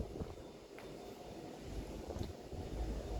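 Wind blows outdoors as a steady, fairly faint rushing rumble, with low gusts buffeting the microphone and no voices.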